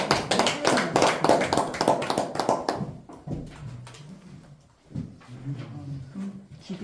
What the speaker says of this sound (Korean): 이환웅 마술사님을 박수로 모십니다